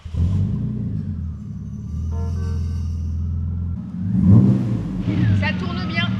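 A small engine fitted with a plastic propeller starts up and runs with a steady, close droning rumble that swells briefly, while people talk over it.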